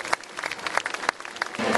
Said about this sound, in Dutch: een warm applaus voor het buurtschap van het land